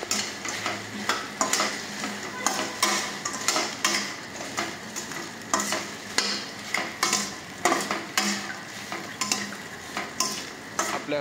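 Soya chunks being stirred into a sizzling chilli mixture in a pan, a spoon scraping and clanking against the pan in a regular rhythm over continuous frying sizzle, close and clear with no talk.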